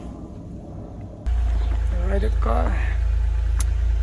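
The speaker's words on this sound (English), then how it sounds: "let's fire up the car." A BMW E90 engine cranks and catches at about 1.2 s after a fuel regulator and pump replacement, then settles into a loud, steady idle, while someone talks briefly over it.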